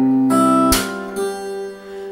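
Fingerstyle acoustic guitar plays a short phrase from a song: three distinct plucked attacks, the middle one sharpest, each note ringing on in between, clear and close with no voices.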